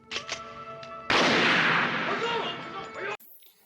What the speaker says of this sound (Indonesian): Tembakan pun tak terhentikan.